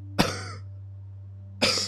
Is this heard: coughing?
yes